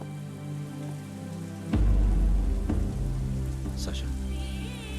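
Heavy rain pours steadily in a dramatic film scene, a loud dense wash that swells suddenly partway through and keeps drumming under a musical score, with no voices.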